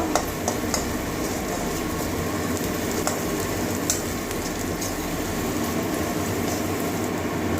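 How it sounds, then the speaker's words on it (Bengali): Garlic fries in hot oil while greens for a jute-leaf (pat shak) dish are cooked, giving a steady, dense sizzle that holds at an even level throughout. "রসুনটা আর ভেজে নিচ্ছি এটাও কাঁচা গন্ধ যাওয়া পর্যন্ত"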